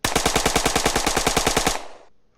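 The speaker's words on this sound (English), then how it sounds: "So if I fire a gun, not stabilizing it, you'll see it has quite a bit of recoil." A rapid burst of automatic gunfire from an unstabilized gun in the VR game Weapon Master VR, about twenty loud close shots in quick even succession, then a short fading echo.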